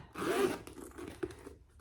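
A zipper on a sewn crossbody bag's inner pocket is pulled in one quick, close rasping run, followed by softer fabric rubbing and a small click, recorded quietly with no talking.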